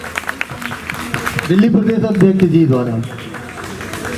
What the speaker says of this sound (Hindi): स्वागत करते हैं तालियां बजाकर